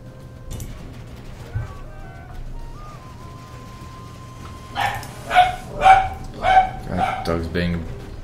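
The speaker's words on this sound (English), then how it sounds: "God, dog's being very loud." A dog barks loudly in a series of about five sharp, close barks near the end, following a quieter stretch with faint tonal game sounds, in Rome: Barbarian Invasion.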